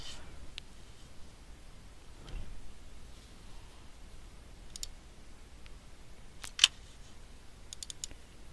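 Computer mouse clicking while working through a website menu: a few sharp, close clicks, sparse at first, then a small cluster near the end over a quiet background hiss.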